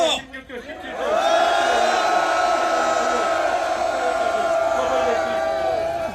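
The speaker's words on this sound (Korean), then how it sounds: "힘차게 힘차게 함성 외치겠습니다" A crowd of farmers at an agricultural rally lets out a long, loud, sustained collective shout. Many voices swell into one roaring cheer after a brief ragged start, holding near and strong to the end.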